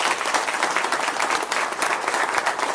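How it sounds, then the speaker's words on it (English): An audience applauds at a signing ceremony, with dense, loud, sustained clapping from many hands and no voices. "please, a round of applause"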